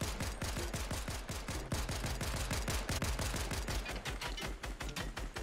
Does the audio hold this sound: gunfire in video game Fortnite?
yes